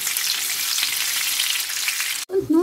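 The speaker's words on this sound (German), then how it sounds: "Und ich brate das Fleisch von allen Seiten schön goldbraun an." Meat browning on all sides in a pan, a dense steady sizzle that cuts off abruptly near the end, followed by a brief clatter.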